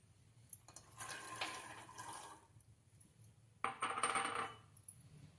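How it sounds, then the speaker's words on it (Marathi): Two bursts of soaked chickpeas splashing and rattling into water set to heat, the second sharper and louder, separated by a quiet pause. "त्याच्यात टाकणार आहे आपण भिजवलेले हरभरे"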